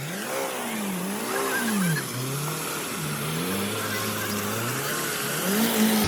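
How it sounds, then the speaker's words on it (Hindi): A Mahindra Thar's engine revs up and down repeatedly as its tyres dig into a slushy, muddy off-road trail in Hoshiarpur, Punjab. The engine sound is loud and close, with rising and falling pitch. "अमन भैया रेस ज्यादा है, डिग कर रहा है, हल्की रेस"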